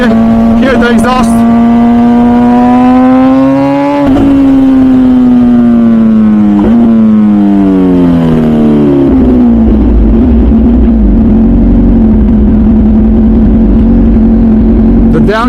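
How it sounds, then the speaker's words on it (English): A Ducati or MV Agusta superbike engine revving loudly up and down with a strong rising and falling exhaust note, close by, followed by a lower steady rumble. "Shut up for a second just so you guys can hear the exhaust."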